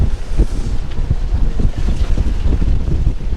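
Sailboat sliding down a wave in rolly Bahamas seas at over five knots, a loud continuous rush of water and hull noise with heavy wind buffeting the microphone throughout.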